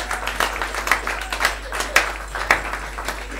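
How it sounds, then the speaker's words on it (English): An audience at an acoustic music night claps in light, scattered applause, a modest crowd heard fairly close, with no talking over it. "Give me a round of applause."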